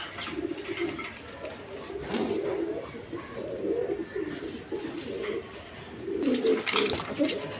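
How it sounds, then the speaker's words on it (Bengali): Rajgolla pigeons coo in a steady, overlapping murmur, fairly close, with a busy background hum and a louder swell of calls near the end. "এটা মূলত রাজগোল্লা কবুতর"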